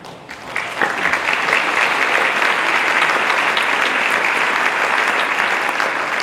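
An audience at an evening contest breaks into steady, loud applause that swells within the first second and holds as a dense, continuous wash of many hands clapping, with no voices rising above it.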